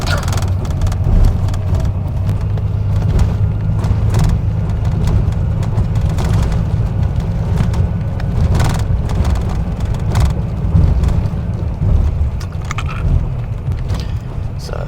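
A bus in Vietnam travels over a bumpy road, giving a loud, constant engine and road rumble with frequent rattles and knocks throughout.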